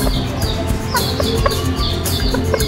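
Bantam Cochin chickens cluck and chirp in short bursts close by, over a busy, noisy outdoor background.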